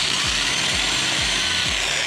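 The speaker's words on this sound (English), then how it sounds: "And this one I'll also drill at a little bit of an angle." A power drill bores at an angle into a wooden base for drone race gates, a loud, steady close-up whine with a regular low thumping pulse about twice a second.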